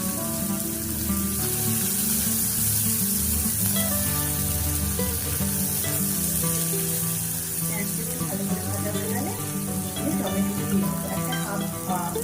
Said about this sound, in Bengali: আমার পেঁয়াজটা মোটামুটি ভাজা হয়ে গেছে।